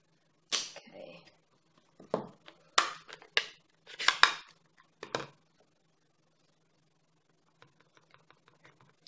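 A rubber stamp inked in eggplant purple is pressed onto a die-cut paper card panel for a balloon pop-up card, giving several distinct soft taps and thumps in close succession, followed by a few faint light clicks.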